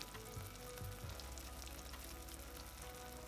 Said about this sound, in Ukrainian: смажимо на середньому вогні під закритою кришкою пательні